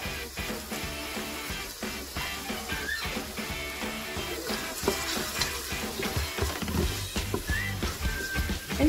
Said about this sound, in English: And you're going to want to saute it for a bit.